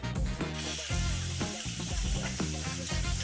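Tiramisu mixture is stirred in a bowl, making wet, rhythmic scraping and squelching strokes that repeat about every second, close and fairly loud, with no talk over them.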